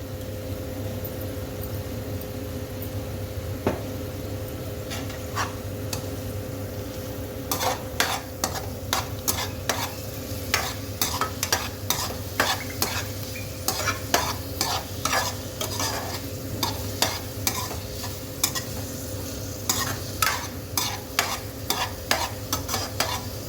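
Capsicum fries in a pan with ginger, garlic and green chili paste for paneer toofani, giving a low steady sizzle. Repeated scraping and stirring of the spoon grows busier and more rhythmic as it goes on.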